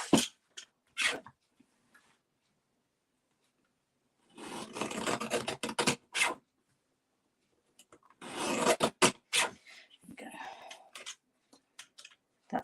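Scissors or a trimmer cutting a tiny piece of card stock for a greeting card, close scraping and rasping cuts in two short bursts with quiet clicks between, mostly free of talk.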